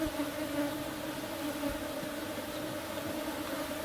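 A dense swarm of agitated African honey bees (Apis scutellata) at a beekeeping session near Nairobi makes a continuous, close buzzing drone that holds steady throughout, with no voices.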